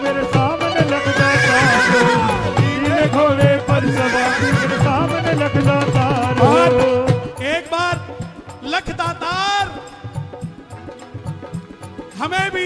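A loud horse neigh and whinny rises out of a Hindi devotional bhajan about Khatu Shyam riding a blue horse, sitting over melodic singing and instruments before the music thins out.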